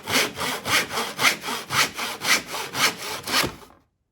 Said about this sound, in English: They can hold the saw, do the sawing.